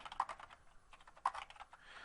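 Keys clatter on a computer keyboard as an address is typed into an online form, with two quick bursts of close, crisp keystrokes separated by a short pause.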